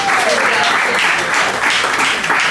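Audience applause at a data science night tech event, a loud sustained round of clapping from a room full of people, steady and close.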